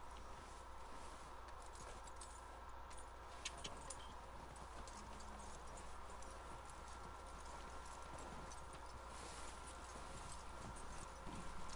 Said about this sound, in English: Why do you have to lead your horse places?